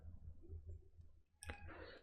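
A single sharp mouse click on the Next button during Salesforce report setup, a brief crisp tap standing alone in a quiet room, followed by soft hiss.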